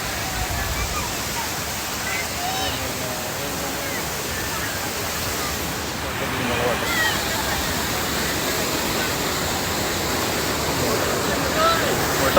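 A waterfall roars nearby in a steady, loud, broadband rush that fills the whole stretch, with someone talking over it at times.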